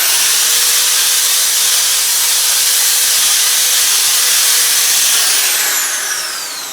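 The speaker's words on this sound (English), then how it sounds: "I'm just going to give it a good going over with the wire brush and give this a good cleaning." A rusty part from a Qualcast Classic 35S lawn mower being cleaned with a wire brush, giving a steady, loud, broadband hissing scour that runs unbroken before easing off at the end, with no talk.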